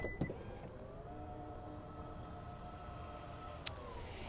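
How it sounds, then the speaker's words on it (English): A hands-free power tailgate on a 2021 Genesis GV80 SUV opening, a steady electric motor whine running for several seconds, close and moderately loud, with a short click near the start and another near the end. "Genesis is going to throw in a standard hands-free power tailgate, so you can just wait around the vehicle and it will smart open"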